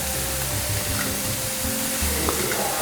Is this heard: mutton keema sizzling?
yes